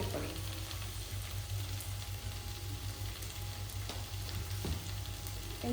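Tomato with turmeric and coriander powder sautéing in a pan for an egg curry, giving a steady, close sizzle and frying crackle throughout with a low constant hum beneath and no talk.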